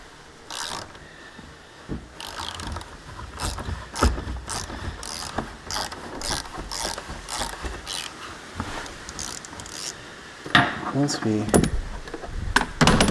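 A 3/8 ratchet with an extension loosens the oil filter housing on an F56 Mini Cooper S, giving repeated close, rapid clicking bursts with short pauses and some handling noise, and someone talks over parts of it.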